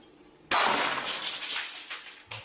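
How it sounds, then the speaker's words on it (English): A glass shatters suddenly, a bright loud crash followed by a tinkling spray of shards that fades, then a smaller clink of pieces near the end. "it proceeded to break a glass"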